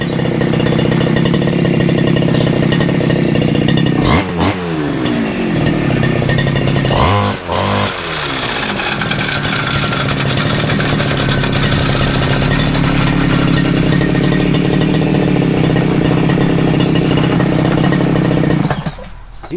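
Two-stroke weed wacker engine running loud and close for the whole stretch, revving up and down a couple of times with a harsh buzzing drone.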